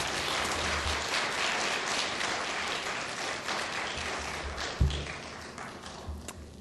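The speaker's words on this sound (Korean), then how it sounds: "우리 전도생 올라올 때 한번 크게 격려로 한번 박수합시다." A church congregation at a Wednesday worship service claps to encourage a preacher coming up, a continuous moderate wash of applause with a few louder nearby claps, fairly faint overall.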